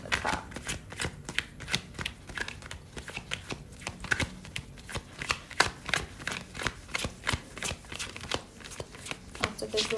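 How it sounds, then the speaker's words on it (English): Tarot cards are shuffled by hand in a steady run of crisp, papery riffles and slaps, repeating about every half second, close and clear with no talking over them. "After this last shuffle"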